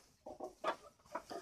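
A few short clucks from pet backyard chickens, close by but soft, in quick uneven bursts with brief gaps between them and no talking.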